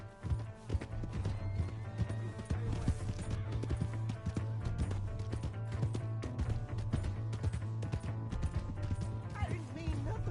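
Horse hooves clip-clop in rapid rhythm in Red Dead Redemption 2, steady galloping beats under a low droning hum, with a voice briefly heard near the end.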